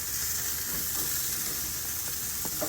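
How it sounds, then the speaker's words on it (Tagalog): Steak sizzles and fries on a barbecue grill, a steady close hiss and crackle with a few sharp pops toward the end. "na barbecue yung aking steak na niluluto"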